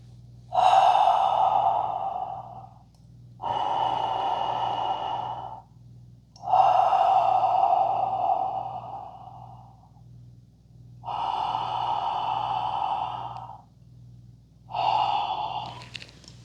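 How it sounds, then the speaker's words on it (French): Slow, deep breaths in and out during a face yoga exercise, five long airy breaths separated by short pauses, close and clear with a faint low hum underneath. "j'inspire et j'expire en refermant ma bouche vers mes doigts"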